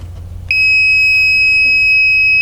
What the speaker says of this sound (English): Let's use this non-contact voltage detector, the one that's built into my multimeter